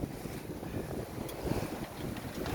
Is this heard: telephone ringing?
no